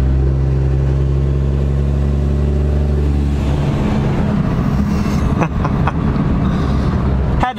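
Cummins 5.9 diesel pickup truck accelerating smoothly, heard from close by, with a steady low engine drone whose pitch climbs as the gears work up, the tone thickening and roughening midway before a few brief knocks near the end.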